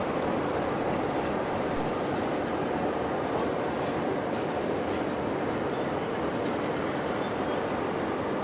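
Diesel locomotive 47812 runs as a light engine near Carlisle, a steady, moderately distant rumble with broadband rail noise that holds evenly throughout, no voices.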